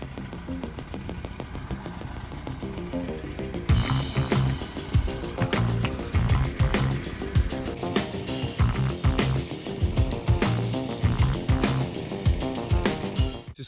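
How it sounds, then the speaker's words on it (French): Tractor in a vineyard pulling a manually steered under-row weeding plough: a loud, close engine with rapid rhythmic knocking and rattling that grows harsher partway through, steady with no voices. "C'est ce qu'on appelle une piocheuse, hein, c'est une charrue qu'on déplace manuellement"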